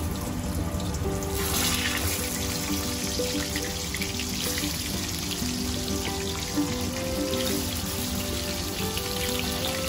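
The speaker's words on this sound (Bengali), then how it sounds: "এই তেলের মধ্যে আমি চিকেনের লেগ পিসগুলো দিয়ে দেব।" Chicken leg pieces sizzling in salted oil in a wok, a steady loud crackle and hiss throughout with no talk.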